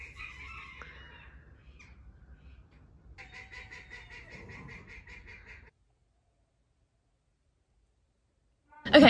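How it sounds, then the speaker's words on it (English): Birds calling outdoors in a rapid cackling, laughter-like chatter in two bursts, fairly near, followed by silence and a sudden loud noise at the end. "That bird sounds like it's laughing."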